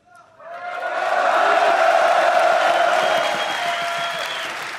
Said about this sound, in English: Thank you, everyone, for cheering for us.